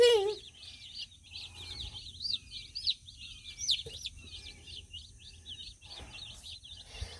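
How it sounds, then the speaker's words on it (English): Seventeen young Cornish Cross meat bird chicks peep and cheep continuously in their new home, a dense chorus of high chirps close by with occasional louder calls and faint background rustling. "There's our little meat birds. All 17 of them. Their new home."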